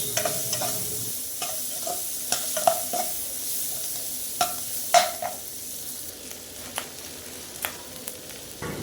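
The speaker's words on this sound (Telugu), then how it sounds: "ఉల్లిపాయలను అయితే బాగా వేయించుకోవాలి." Onions frying in oil in a pan, a steady sizzle running throughout with repeated sharp scrapes and clinks of a spoon stirring them, close and clear with no talk.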